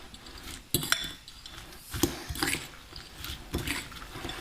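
Slaw mix tossed in a bowl with a utensil, giving irregular sharp clinks and knocks over a soft rustle of shredded vegetables, close and clear with no speech.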